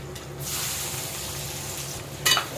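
Chopped onions hit a hot pan and fry with a loud, continuous sizzle while bitter gourd and egg curry is being cooked. A brief, brighter crackle comes near the end.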